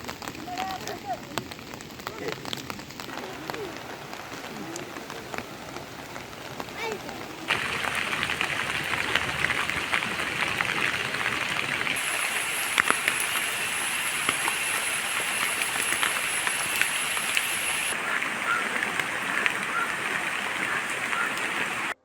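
Heavy monsoon rain pouring over flooded paddy fields in Alipparamba village, Kerala, a dense continuous hiss that grows louder and fuller partway through, with faint voices underneath.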